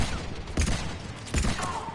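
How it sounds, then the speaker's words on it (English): A powerful pistol fires in Mass Effect 3, two loud, punchy shots spaced under a second apart amid busy combat noise. "This is a powerful pistol"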